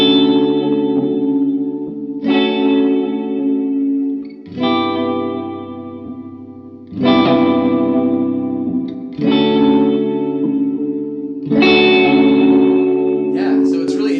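Guitar played through a Fairfield Circuitry effects pedal, six loud sustained chords each ringing out with wobbling, randomly shifting modulated tone and reverb-like tails, heard alone and close.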